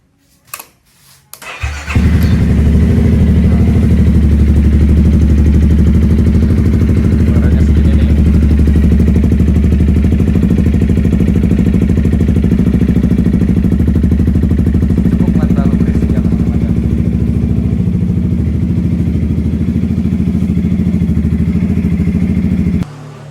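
A 2007 Yamaha Mio scooter or 2017 Yamaha Xmax started from cold and left to warm up, a short starter crank then a steady, close, throbbing idle with a buzzy exhaust note that cuts off at the end.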